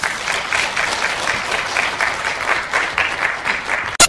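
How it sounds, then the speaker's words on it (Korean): An audience at a Korean history lecture applauds to welcome the speaker, a steady round of clapping that ends abruptly with a sharp thump. "박수로 환영해 주시죠."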